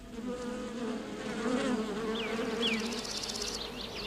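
Paper wasps (Polistes) buzz steadily in a crowded colony of mixed males and females, a dense close hum with wavering tones and a few louder passes near the end.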